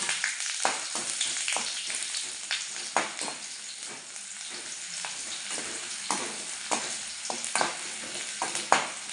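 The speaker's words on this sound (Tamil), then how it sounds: "இதை போட்டு நல்லா இப்போ வதக்கிக்கலாம்." Peeled ingredients for chutney sautéing in oil in a pan, a moderate sizzle with the scrape of a spoon stirring now and then, close and without talk.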